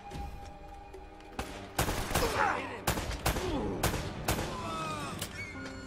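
Gunfire in Uncharted: Drake's Fortune, a burst of several sharp game gunshots and blasts in quick irregular succession over a busy action soundtrack, loud and close.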